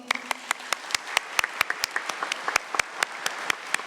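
An audience at a college transfer student welcome applauds the evening's speakers. The claps are scattered and fairly light, a modest round of clapping from a small crowd that carries on steadily for a few seconds.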